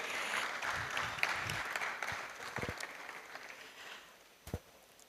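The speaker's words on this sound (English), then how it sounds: "A round of applause, please." An audience at a 2024 ICTEL expo gives a round of applause, loud clapping at first that tapers and fades over a few seconds, with a couple of stray claps near the end.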